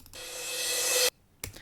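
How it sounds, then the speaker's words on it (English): A reversed cymbal sample in a Logic Pro remake of a pop song swells steadily upward for about a second and cuts off abruptly, followed by a brief silence and a short noisy hit. "once you reverse that, you get this, a reverse cymbal"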